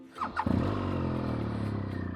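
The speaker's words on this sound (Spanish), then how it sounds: "Moto lista. Vamos a estar arrancando." A motorcycle is started for a morning departure on a road trip: a short cranking stutter, then the engine catches and settles into a steady, close, throbbing idle.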